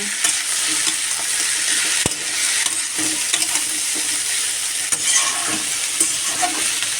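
Beetroot and carrot fry lightly in oil in a wok, a continuous bright sizzle throughout with occasional stirring clicks and scrapes, no voices.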